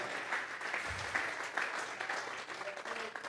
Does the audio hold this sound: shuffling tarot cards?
no